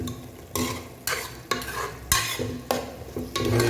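A spoon stirs turmeric powder through Chettinad beef gravy in a pan, with steady scraping strokes every half second over a continuous close sizzle, and no talking.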